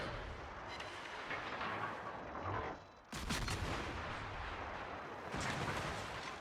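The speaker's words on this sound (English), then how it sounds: "I'm just going to try and get a shot off on the guns here before I get behind the island" Naval guns firing in a warship video game: dense, heavy booming salvos roll on continuously, easing briefly before a fresh loud volley cuts in and carries on; no speech.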